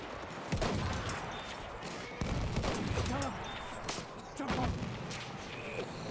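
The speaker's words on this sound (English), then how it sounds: "There's a machine gun" Machine gun fire in Battlefield 1 rattles in bursts among booming shots and distant artillery, loud and chaotic, with a voice talking intermittently over the battle.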